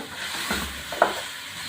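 Spices and mutton stir-frying in a pan for a round gourd curry give a soft, continuous sizzle, with two brief stirring scrapes close by.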